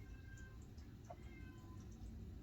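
A cat named Percy meows faintly from another room, a short soft call rising briefly over a steady low background hum indoors.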